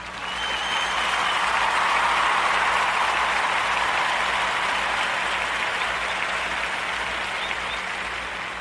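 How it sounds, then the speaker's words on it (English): A community audience gives a steady round of applause, dense and sustained for several seconds, with no speech over it. "let's give them a round of applause for the great work they're doing in our community"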